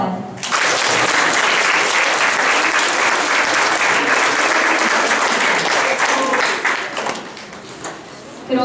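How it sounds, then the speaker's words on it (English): Applause breaks out at a vocabulary bee award ceremony, loud, dense clapping from the audience that starts abruptly, holds steady for about six seconds, then thins out near the end. "Now you can applaud."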